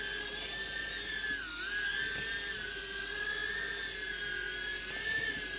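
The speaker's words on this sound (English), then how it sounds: "The little motors work really well." A tiny-whoop-style kingtoys mini camera quadcopter drone flying, its small motors giving a steady high-pitched whine that rises and dips slightly with throttle changes, close and continuous throughout with no talking.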